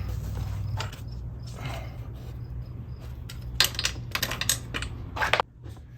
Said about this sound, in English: Now, these are 10mm bolts. Go ahead, get them tightened.